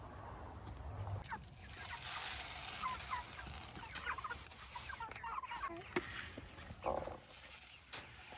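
Hens and other fowl cluck and call inside a chicken coop, faint, scattered vocalizations over a quiet, rustling background.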